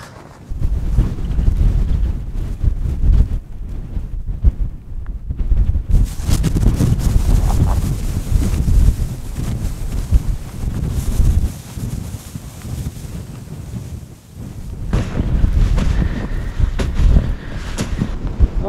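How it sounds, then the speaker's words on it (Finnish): Strong gusting wind buffets a tent at a winter camp in the far north during the polar night, a loud, continuous roar with rustling flaps that dips briefly and then surges back. "Kyllä täällä jonkun verran puhaltaa."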